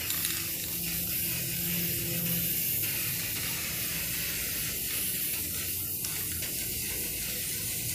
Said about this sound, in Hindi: So I am going to spray paint it with golden spray paint.